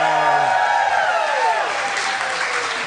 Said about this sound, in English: Flattered by your numbers and your applause.